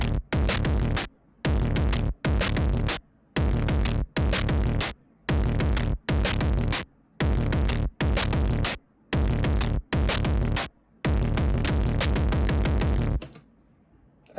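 Deviant Drums plugin's Filter Me preset pounds out loud EDM-style drum bursts in a chopped, rhythmic stutter, dense full-range hits gated on and off in quick blocks, ending in a filtered fade.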